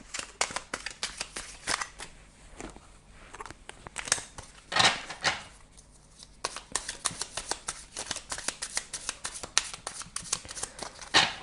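A small 77-card oracle deck is shuffled by hand in a long run of quick, crisp riffling bursts and flicks with brief pauses between, close and fairly quiet, with no voices.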